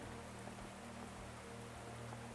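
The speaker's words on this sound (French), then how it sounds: "La pluie s'est presque arrêtée." Light rain falls as a soft, even patter of drops on surfaces, a continuous faint hiss with no voices.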